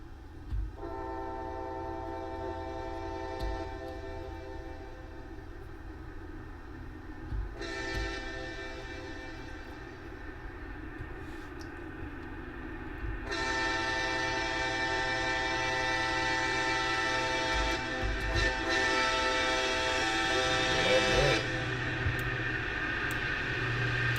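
Diesel train horn sounding in repeated long blasts within Train Simulator Classic near Mooringsport, Louisiana, approaching a crossing, over a steady rumbling engine, growing louder and fuller in the later blasts.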